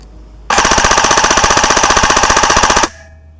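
Novritsch airsoft gun firing a rapid continuous burst at an orange, a loud, close, evenly spaced rattle of shots lasting a little over two seconds, starting and stopping abruptly with quiet on either side.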